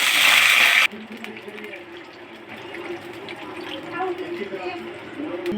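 Water splashes into a cooking pan for a dry fenugreek-leaf (methi) and peanut vegetable dish. It is a loud, steady pour lasting just under a second, then it stops and quiet kitchen background remains.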